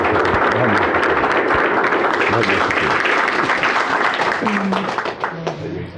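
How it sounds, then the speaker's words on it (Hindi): Loud, sustained applause from a seminar audience, many hands clapping together and close by, with voices mixed in as it fades slightly at the end. "जोर से तालियां।"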